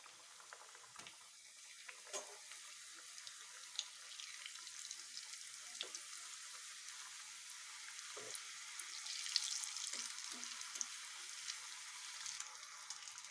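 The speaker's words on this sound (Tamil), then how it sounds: "இப்போ பொரிக்க ஆரம்பிச்சிடலாம்." Steady crackling sizzle of date spring rolls deep frying in hot oil, with occasional louder pops and spatters, close by and without talk.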